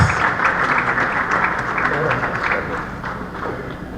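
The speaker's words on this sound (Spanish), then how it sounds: "pido un fuerte aplauso para el doctor Enrique Cornejo Ramírez" A hall audience at the Gran Logia del Perú applauds Dr. Enrique Cornejo Ramírez with steady, full clapping from start to finish, without any clear voices on top.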